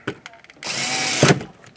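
A small electric screwdriver drives screws back into an Xbox One S console in one close, steady whir lasting about half a second. A few light taps come before it and a brief clunk follows at the end.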